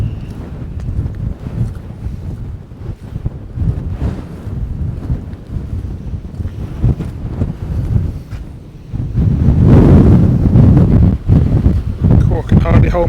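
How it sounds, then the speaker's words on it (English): Strong wind buffets the microphone on Gorleston beach during Storm Isha, a continuous roaring gust that swells louder in the second half, with surf and a voice speaking over it. "It's pretty windy."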